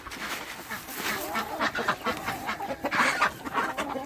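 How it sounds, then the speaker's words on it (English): Chickens eating black soldier fly larvae cluck and chatter near and fairly loud, a busy overlapping run of short clucks and peck sounds. "And the chickens love it."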